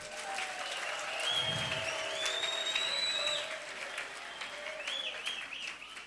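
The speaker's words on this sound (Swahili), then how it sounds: "Mpigieni mwane makofi." A church congregation at a Nairobi worship service breaks into sustained, loud applause: dense clapping that swells, holds steady for several seconds, then eases slightly while carrying on.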